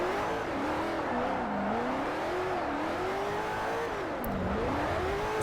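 A Koenigsegg CCX in Forza 4, its mid-engine note rising and falling steadily under load, with a faint tyre scrub as the car understeers through a corner. The sound is close and continuous, with no voices.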